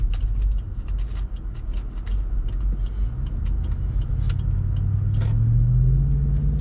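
Range Rover on the road with a steady low engine rumble and road noise inside the cabin, the engine tone rising gently toward the end, with faint clicks and no talking.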